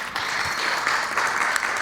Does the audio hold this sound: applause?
yes